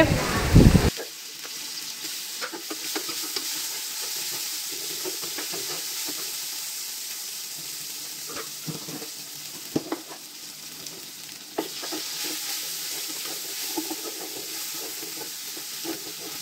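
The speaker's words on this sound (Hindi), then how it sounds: "अब इसे हम थोड़ा सा भून लेंगे" Steady sizzling of ginger garlic paste frying in hot oil, a continuous crackly hiss with occasional stirring clatters, close up, no talking.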